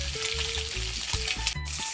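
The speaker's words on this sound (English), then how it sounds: "Finish frying now" Jamaican salmon fish slices fry in a pan with a loud, steady close-up sizzle, crackling and hissing continuously with a few light clatters on top.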